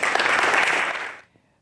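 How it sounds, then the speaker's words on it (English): Audience applause at a sanctuary and racial justice convening welcomes three panelists to the stage, a dense, loud burst of clapping that holds steady for about a second before cutting off abruptly into near silence. "if we can give them a round of applause"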